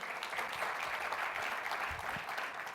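Audience applause at a business conference panel on social media and employees: a sustained, even roar of clapping from a sizable crowd, steady throughout with no one speaking over it.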